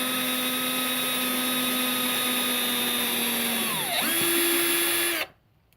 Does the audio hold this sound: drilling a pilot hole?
yes